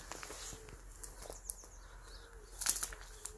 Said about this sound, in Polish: Słuchaj, ptaki.